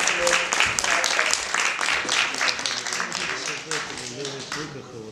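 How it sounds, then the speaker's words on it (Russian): An awards ceremony crowd applauds continuously with dense clapping throughout, while a voice speaks over it. "Эти аплодисменты для вас"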